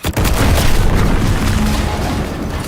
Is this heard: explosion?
yes